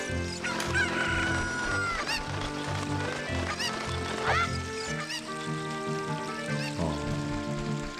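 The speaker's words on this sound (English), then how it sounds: "He's a chicken." Chicken sounds from Zelda: Ocarina of Time mixed into lively game music, with squawking, crowing-like calls and honking tones rising above a steady melodic backing.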